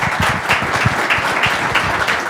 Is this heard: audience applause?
yes